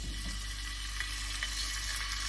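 Courgette discs sizzle in hot oil in a pan, a steady, even frying hiss that holds close and constant throughout with faint crackles on top.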